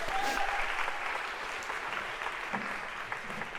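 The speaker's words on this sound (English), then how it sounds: "I feel Carter's waiting for applause" Audience applause for a volunteer in a lecture hall, a steady, full wash of clapping from many hands lasting several seconds, fairly even in loudness with a brief soft voice near the start.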